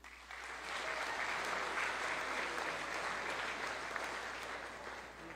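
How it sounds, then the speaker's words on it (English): A crowd applauds steadily for several seconds at a chess event, a dense, even wash of clapping that swells early and holds without a break. "a big round of applause for them"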